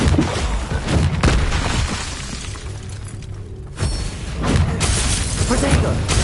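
Bombarda explosion spells in Hogwarts Legacy, several loud booming, shattering blasts in quick succession amid heavy combat noise, with voices heard between them.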